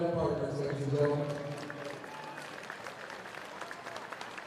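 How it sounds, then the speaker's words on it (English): Applause from a combat sports event audience, loudest at the start and then thinning to scattered claps, with voices and crowd noise mixed in. "Let's have a warm round of applause for all of our event partners"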